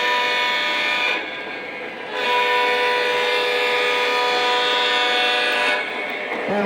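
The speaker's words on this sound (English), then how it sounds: "We have the locomotive coming around the curve." A model train locomotive on track runs around a curve with a loud, steady electric hum and rolling drone that dips briefly, close to the listener.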